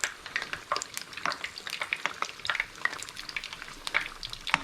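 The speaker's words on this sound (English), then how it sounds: "all we're really doing is crisping up and frying that batter" Batata vada batter crisping in hot oil, a steady close sizzle with dense crackling pops and bubbling throughout, no voices.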